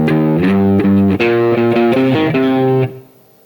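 A slow electric guitar blues riff, played with a slightly overdriven tone, a string of clear, deliberate notes that ring out and fade at the end.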